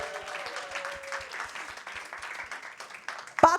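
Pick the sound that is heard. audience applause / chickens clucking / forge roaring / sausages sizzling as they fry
audience applause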